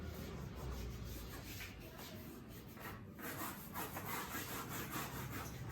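A duster scrubs steadily across a classroom board during a physics lecture, a continuous close rasping rub lasting several seconds with slight rhythmic surges and no speech over it.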